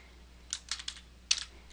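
A computer keyboard typing a search term into a medical database, heard as a few quick clusters of crisp keystrokes with short gaps, close and fairly quiet, with no voices.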